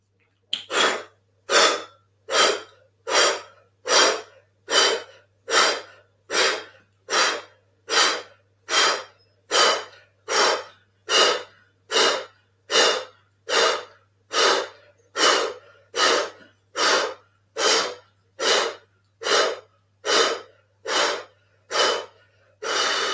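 Deep, forceful breaths repeat in a steady rhythm, each inhale and exhale close and loud, dozens of cycles in a round during a live yoga breathing exercise, with no talking.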